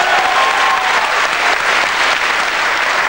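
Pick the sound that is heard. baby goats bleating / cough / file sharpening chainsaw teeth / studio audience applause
studio audience applause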